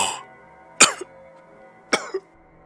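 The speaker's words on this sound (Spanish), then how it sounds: "dijo y comenzó a toser, pero luchó para componerse" Two separate bursts of coughing from a person struggling to compose themselves, each a harsh cough followed by a short catch, close and clear against quiet.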